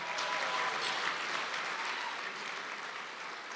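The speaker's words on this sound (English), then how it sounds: "So let's give Skip a round of applause again." An awards ceremony audience applauds steadily, a dense wash of clapping from a crowd, with no talk.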